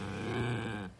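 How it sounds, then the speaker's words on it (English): A Chihuahua gives a low, continuous growl for about a second, fairly close but not loud, trailing off into a small grunt. "That's my dog trying to talk to me."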